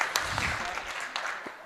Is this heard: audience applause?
yes